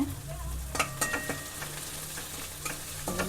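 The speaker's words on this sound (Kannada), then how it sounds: "ಚೆನ್ನಾಗಿ ಫ್ರೈ ಮಾಡ್ಕೊತೀನಿ" Green chillies frying in a pan, a soft sizzle broken by several sharp scraping and tapping stirs, with a low hum underneath.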